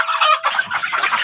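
Chickens cluck and squawk close by in a short, busy burst of overlapping calls.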